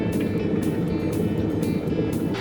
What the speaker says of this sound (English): Now that's it sort of bubbling up, it just sounds like the kettle getting boiled